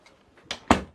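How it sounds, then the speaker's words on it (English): A door in a home wardrobe and beauty room in Melbourne is pushed shut nearby: a soft brushing contact followed a moment later by a louder, solid closing thud, with no talking. "let's close the door."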